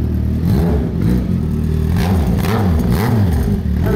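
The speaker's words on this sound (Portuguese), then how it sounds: "Essa moto tem um barulho bonito." A Honda Hornet motorcycle engine revs loudly and close by, rising and falling in repeated throttle sweeps over a constant idle rumble, with no talk.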